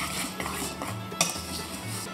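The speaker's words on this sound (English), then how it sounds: "I'm just going to take a whisk and mix this all up really good" A whisk clinks and scrapes around a bowl, mixing bread ingredients in quick uneven strokes, close up with one sharper knock against the side and no talk.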